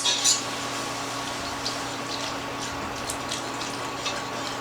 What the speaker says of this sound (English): Now we're going to slowly add our 3 cups of whole milk, continually stirring because you don't want lumps.